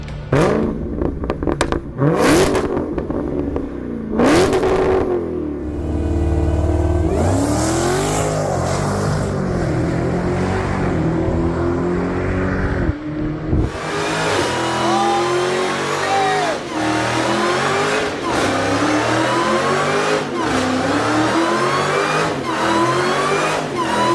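A Dodge Demon 170 muscle car with a Hemi V8 revs hard, its engine climbing and falling in repeated loud surges before roaring into a sustained, rising acceleration.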